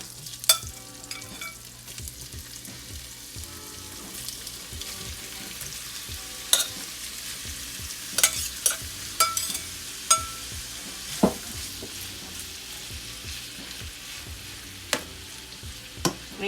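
Meat searing in a skillet over medium heat, a quiet steady sizzle broken by scattered sharp pops and spatters and occasional light utensil scrapes, heard up close with no talking.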